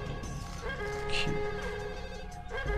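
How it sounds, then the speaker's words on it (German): A telephone rings inside the Max Payne video game, a steady tonal electronic ring sounding fairly close and clear, with a voice briefly speaking over part of it. "Telefon."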